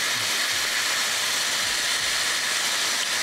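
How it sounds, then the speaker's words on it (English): A spatchcocked chicken sears on a Ninja Woodfire grill, giving a loud, steady broadband hiss of steaming and sizzling juices that stays continuous and close throughout without any talking. "Obviously, tons of juices are coming out. That's why you're getting a lot of that steaming."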